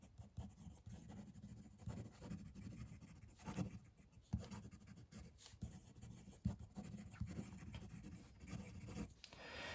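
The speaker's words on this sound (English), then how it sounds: "Let's do some fast writing now." Fast, scratchy writing with a Venvstas Magna fountain pen on paper, a close, quiet continuous rasp of the nib with small ticks and skips.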